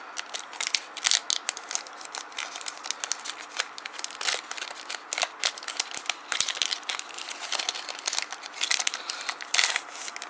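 A Pokémon card booster pack wrapper being opened by hand, a steady run of close crinkling, crackling plastic with small tearing bursts, no voices.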